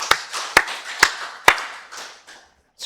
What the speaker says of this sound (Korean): 우리 살아계신 하나님께 박수 영광 드리겠습니다.